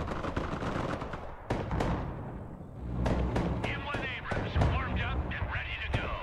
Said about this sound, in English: Pressing those tow teams with my mortars